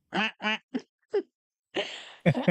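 A person imitates a duck with a run of nasal quacks: four short, evenly spaced calls, then a pause, a longer raspy quack and a final pair, close and fairly loud in a quiet room.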